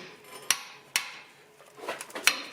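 Three sharp metallic hammer blows on an 18mm wrench, close and irregularly spaced, with quiet scraping between strikes, loosening a lower ball joint on a VW Golf GTI.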